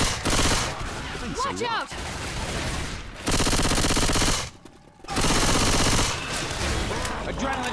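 Rapid bursts of gunfire in Left 4 Dead 2 during the Ruins campaign against a tank, loud and sustained in several long volleys separated by brief lulls, with a shouted voice among them.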